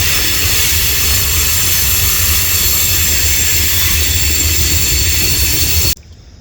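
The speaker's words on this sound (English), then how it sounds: "Thought I'd give you an idea how close that train is to me" A train rumbles past very close to a fishing spot by the water, a loud continuous roar with a heavy low drone and hiss, cutting off abruptly near the end.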